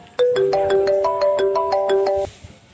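A mobile phone ringtone plays a bright, repeating electronic melody of evenly spaced notes, loud and near, stopping abruptly after about two seconds.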